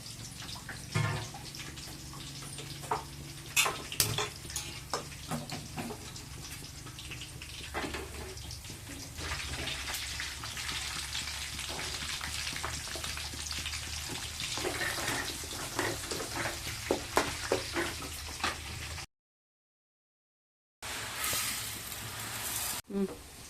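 Onions and curry leaves fry in a pan for Sunday fish kuzhambu, making a steady hiss with crackles and small pops, close by and moderately loud, briefly cut to silence near the end.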